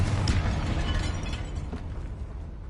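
A Confringo spell explodes in the game Hogwarts Legacy inside a tomb: a loud, booming blast that fades away over a few seconds into a rumbling tail.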